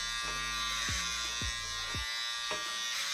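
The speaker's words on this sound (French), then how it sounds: "on va entendre que la tondeuse" Electric hair clippers buzz steadily at close range through a home haircut, a continuous motorized hum with a few brief changes in pitch as the blades shift against the hair; no one speaks.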